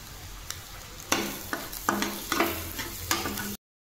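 Egg bhurji stir-fried with green chilli in a pan, a low sizzle under repeated sharp scrapes and taps of a spatula against the metal, close and clear with no talking, then a sudden cut to silence.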